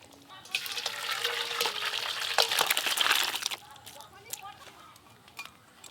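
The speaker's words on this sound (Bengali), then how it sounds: "এবার ঢেলে নেব।" Thick mutton curry with gravy pours into a metal bowl, a splashy liquid rush with clinks of a ladle against the pot, loud at first and then trailing off into faint scraping.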